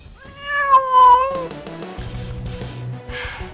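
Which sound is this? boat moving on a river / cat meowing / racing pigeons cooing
cat meowing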